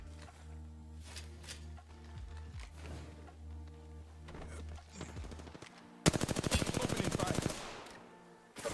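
Gunfire from the video game Apex Legends: scattered single shots and short bursts, then a loud sustained automatic volley near the end, over steady game ambience.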